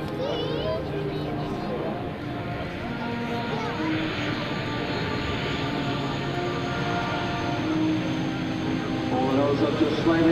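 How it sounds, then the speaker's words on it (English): A C-130J-30 Hercules turboprop flies a steep assault-landing approach at an air national guard open house, its steady droning engine roar sustained throughout with faint tonal whine, while a voice narrates over it. "Here they come on the assault landing, steep approach, and down toward the end of the runway"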